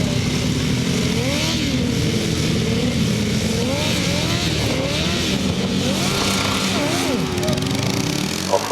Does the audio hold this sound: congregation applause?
no